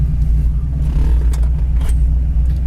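A 1969 AMC AMX V8 runs steadily nearby, its deep low rumble holding even for the whole stretch with no clear rev rise, loud and unbroken.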